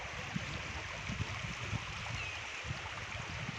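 Sutlej river water rushing steadily after the Swan river joins it during continuous rain in Himachal Pradesh, a constant broadband roar with low gurgling pulses throughout, fairly close and without voices.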